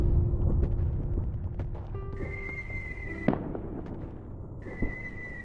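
Artillery shell explosions in the video game Daikon Hero land as sharp cracks and thuds amid whistling tones and rumbling blasts, moderately loud with no speech.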